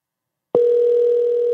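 After a brief silence, a loud, steady telephone line tone starts abruptly and holds unbroken to the end as a call goes out, close and harsh with nothing else heard.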